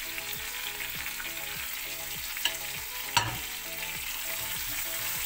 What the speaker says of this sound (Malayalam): ഇതിൻ്റെ പച്ചമണമൊക്കെ ഒന്ന് മാറുന്നവരെ വറുക്കുക.